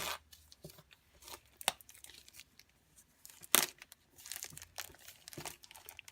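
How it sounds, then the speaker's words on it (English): Plastic wrapping on a paper craft kit is ripped open by hand, making close crinkling and tearing bursts with short pauses between sharp rips. "Then you rip the plastic open."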